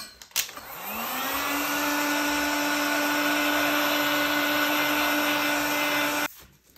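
A heat gun blows across a magnet sheet on a Voron Trident 3D printer bed, a loud, steady whirring hiss that spins up after a click and runs unbroken for about six seconds before cutting off.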